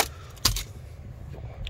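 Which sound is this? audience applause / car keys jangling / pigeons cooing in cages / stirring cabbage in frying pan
car keys jangling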